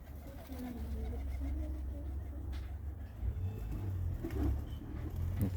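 Pigeons coo in low soft bursts near a rooftop loft, with traffic rumbling faintly in the background.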